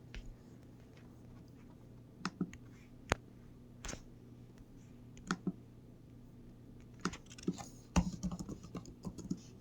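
Keys clatter on a computer keyboard in a sparse, irregular pattern of quiet clicks and taps over a low steady hum, some strokes sharper than others.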